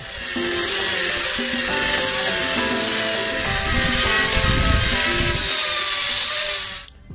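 A Manpa multi-cutter attachment on a standard Makita angle grinder runs steadily with a high whining hum and shifting tones, close, before spinning down at the very end.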